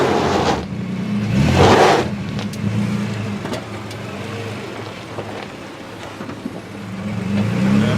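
A 2012 Nissan Frontier PRO4X stuck off-road in two-wheel drive revs in loud surges, with spinning and spattering noise as the tires churn, easing and building again.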